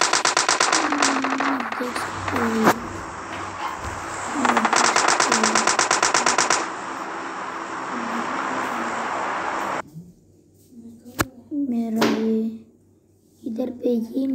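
Rapid machine-gun style gunfire in a game, loud sustained bursts of fast rhythmic shots with several single sharp cracks between them, while a voice talks over the action.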